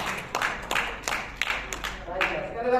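An audience gives scattered applause for Mbak Raisa at an entrepreneurship training event, sharp claps in loose bursts alongside a voice speaking over them.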